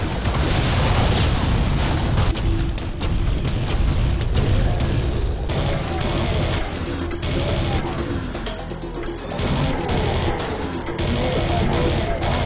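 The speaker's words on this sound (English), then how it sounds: "The weapons sound powerful" Powerful video game weapon fire in a first-person shooter, a loud, continuous barrage of booming blasts and crashes with heavy metal music playing underneath.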